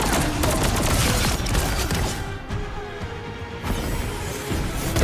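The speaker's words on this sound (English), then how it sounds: "Her chain attack." Jean Grey's chain attack from the video game Marvel Rivals, a dense, loud barrage of rapid crackling, flaming impacts and bursts, briefly easing midway before the busy clatter returns.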